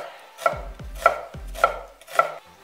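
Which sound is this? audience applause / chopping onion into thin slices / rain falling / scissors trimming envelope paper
chopping onion into thin slices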